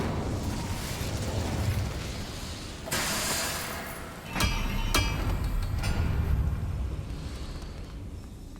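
An Incendio fire spell cast in Hogwarts Legacy, bursts of whooshing flame and pops over a rumbling game backdrop, with a sharp blast around the middle followed by crackling fire that trails off.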